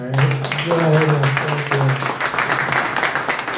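Audience clapping at a meet-and-greet event in Toronto, a spread of hand claps heard underneath someone speaking loudly over the crowd.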